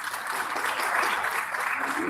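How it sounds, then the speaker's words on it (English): Audience applause at a university launch event for a waste innovation challenge, honoring a guest: continuous, full clapping from many hands, steady and fairly loud for the whole stretch, with no pause. "Let's give him another round of applause."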